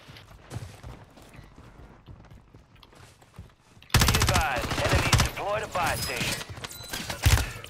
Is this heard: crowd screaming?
no